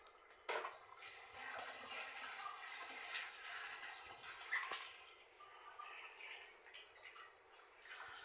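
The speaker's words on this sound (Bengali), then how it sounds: "এখন শাকগুলো ধুয়ে নিব, আস্ত ধুয়ে নিব" Whole leafy greens are rinsed in water, with splashing, trickling and swishing near the microphone, a sharp splash at the start and another mid-way, continuing unevenly throughout.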